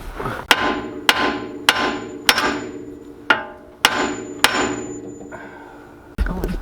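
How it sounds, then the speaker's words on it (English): Hard metal hammer blows ring out on a Honda Accord's suspension, about eight sharp strikes with lingering ringing decay, close and loud, with no talking. "I need a metal hammer."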